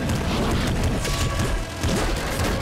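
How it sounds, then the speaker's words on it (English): Super plasma shots fired at the throne in Nuclear Throne, a loud, dense wall of booming blasts and roaring noise that continues for the whole stretch. "Two super plasma shots was enough to take down the throne!"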